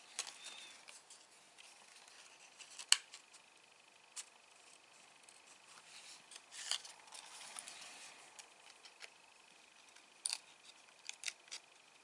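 Scissors make small snips and crisp paper rustles while a snowy bank shape is cut from card stock, quiet and close with soft clicks spaced irregularly over a faint background hum.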